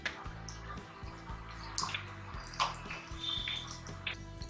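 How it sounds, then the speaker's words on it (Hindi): Water poured into oats idli batter makes a soft, continuous trickling and splashing, faint and close, with a few small drips and no talking. "तो अब इसमें हम थोड़ा सा और पानी डाल देते हैं।"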